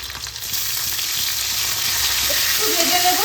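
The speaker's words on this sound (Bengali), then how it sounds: "আমি এবার এর মধ্যে 4টে লাল লাল কাঁচা লঙ্কা দিয়ে দিচ্ছি, আর দিচ্ছি আদা রসুন থেতো করে রেখেছি সেইটা" Fresh red-tinged green chilies and crushed ginger-garlic dropped into hot oil with browned onions, a close, steady crackling sizzle with faint stirring sounds and no talk.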